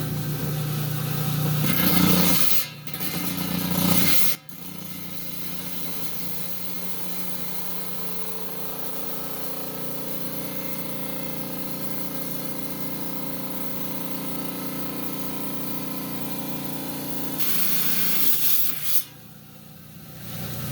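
Wet saw slicing a common prairie rock down the middle, a long continuous grinding whir with spray, steady and loud, with brief pauses near the start and a dip near the end.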